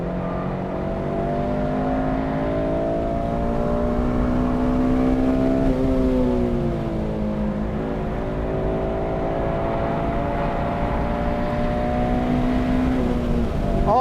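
A Honda Civic Si, kept close to stock, laps a race track with its engine droning steadily inside the cabin, pitch climbing and falling through gear changes over a constant loud road roar, with no talking.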